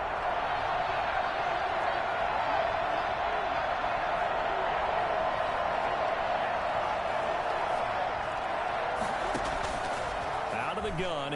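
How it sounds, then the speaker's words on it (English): A stadium crowd in an American football video game, a broad steady roar of cheering ahead of a big third down, continuous and even, with a brief clatter near the end. "the crowd getting into it as we come up on a big 3rd down"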